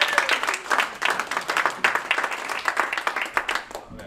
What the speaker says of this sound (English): So let's clap it up for Paul Bennett.